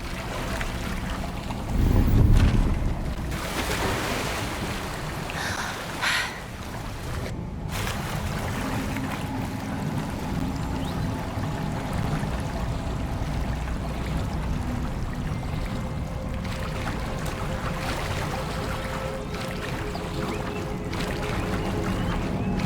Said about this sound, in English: Look, where the water's bubbling.